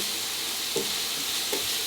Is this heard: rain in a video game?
no